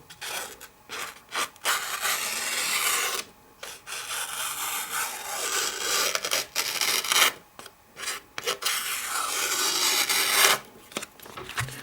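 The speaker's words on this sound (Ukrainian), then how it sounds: "Спробуємо зняти тоненьку стружечку." A forged steel knife shaves a thin curl off a piece of wood: a series of close, rasping scrapes, some short and some drawn out over several seconds, separated by brief pauses, with no talking.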